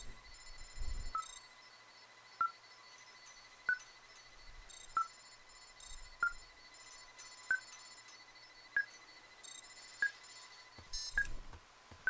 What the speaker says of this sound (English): this thing is losing its mind, beeping like crazy.